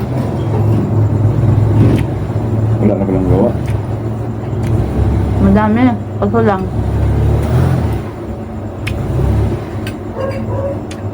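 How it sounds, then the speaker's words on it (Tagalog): Heavy road traffic of cars and buses, a steady near rumble with passing engines and occasional revving, while people talk over it. "Grabe ka traffic"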